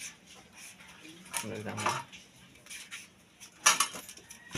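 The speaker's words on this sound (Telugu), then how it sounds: "నేను ముక్కలు చేస్తున్నాను చిన్న చిన్నవి కట్ చేసుకోవాలి" A knife chopping papaya into small pieces for a tribal-style papaya curry: irregular clinking taps against a plate or board, a few sharper hits, with a faint voice and soft background noise.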